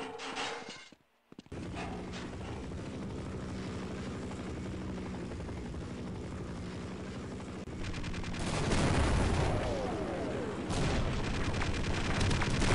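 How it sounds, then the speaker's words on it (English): Video game gunfire in Half-Life 1, dense rapid shots over a loud, steady droning engine like a helicopter, with a brief drop to near silence early on and heavier bursts of firing toward the end. "No, he's shooting at me now."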